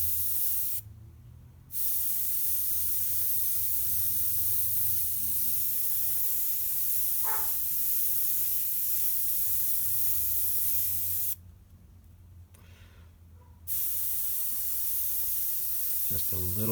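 Quinacridone magenta paint sprayed from an aerosol can in steady bursts, a near, broad hiss that runs continuously with two short pauses, plus a faint click in the middle.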